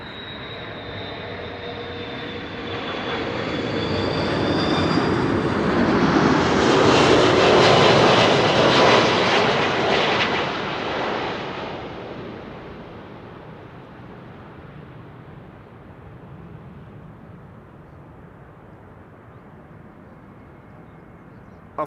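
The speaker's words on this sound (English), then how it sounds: "This is Delta Airlines, flight 74, arriving from Atlanta, Georgia. That's an A330-300." A Delta Air Lines Airbus A330-300 lands at Amsterdam Schiphol, its jet engine roar building from a distance to a loud close pass, then fading into a lower, steady rumble as it rolls out, with no voices heard.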